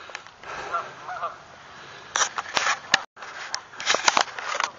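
Geese honk repeatedly outdoors near a lake, bursts of loud calls mixed with softer background honking and a brief pause before more calls.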